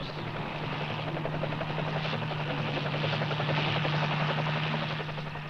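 A helicopter roars loudly and steadily nearby while flying over hippos, its rotor thudding in a constant rapid pulse with no voices.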